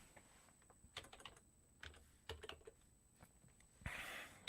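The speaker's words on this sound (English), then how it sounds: "Yes, I am typing." Keys clatter on a computer keyboard in quick irregular bursts with short pauses, close and soft against a quiet room with a faint steady whine.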